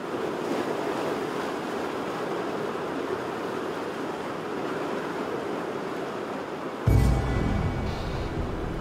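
Heavy surf surges against a Galapagos shoreline as the incoming tide brings ferocious waves, a steady loud roar of churning water with wind, then a sharper, closer wave crash near the end.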